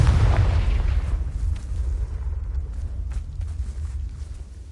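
A Confringo spell goes off in a Hogwarts video game as a single loud, deep blast right at the start, followed by a rumbling tail that slowly fades.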